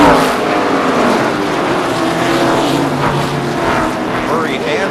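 NASCAR stock cars race at Dover under a caution period, with a continuous engine roar and whine as cars pass, while commentators talk over the noise.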